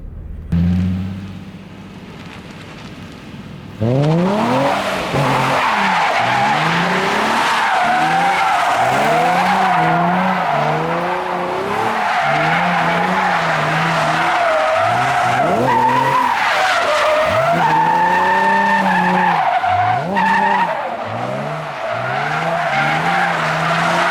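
A Nissan 350Z with a welded differential sets off with a sharp start, then its tires squeal in long wavering howls over a roaring engine for about twenty seconds, loud and close throughout.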